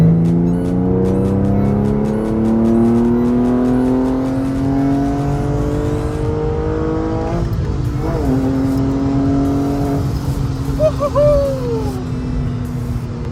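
A 2002 Porsche 911 Carrera engine revs hard and climbs through the gears, each pitch rising before shifting, loud and close with a brief squeal near the end.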